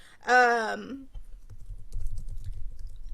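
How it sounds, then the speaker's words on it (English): Soft typing on a computer keyboard, a steady patter of low clicks that follows a short vocal sound at the start, quiet and close. "sorry, I'm typing things as I do this."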